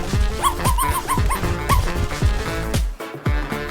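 Up close, a dog lets out a quick run of sharp barks and high yips mixed with whimpering whines, loud and repeated in short bursts with brief pauses between.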